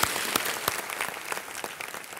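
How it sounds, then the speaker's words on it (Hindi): Applause rises from the studio audience of the Hindi quiz show Kaun Banega Crorepati to welcome a guest back, a steady patter of many hands with a few sharper close claps standing out, no speech on top. "अर्चना गुराडिया गुप्ता जी, तालियों के साथ आपका एक बार फिर स्वागत।"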